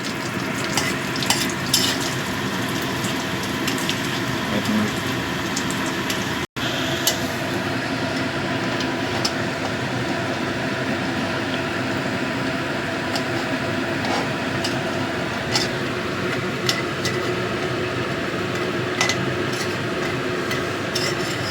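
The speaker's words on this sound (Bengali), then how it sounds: "তেলটা আমার গরম হয়ে গেছে, ধোঁয়া উঠছে। এবার আমি বড়িগুলো ভেজে নেব।" Lentil dumplings (bori) frying in smoking-hot oil for a bottle-gourd curry, a steady dense sizzle running close and loud for the whole stretch, with a brief cut partway and no voices.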